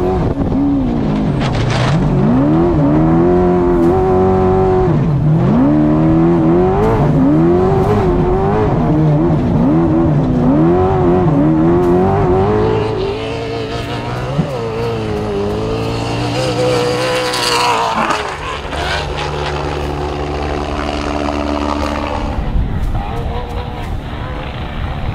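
A race car runs hard, its engine loud and close as it revs and sweeps up and down through the gears, then settles to a rougher, lower drone after running wide off a corner into the trees.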